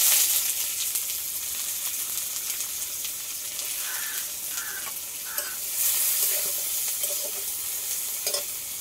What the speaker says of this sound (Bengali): এগুলো সব একসাথে আমি এবার ভেজে নেব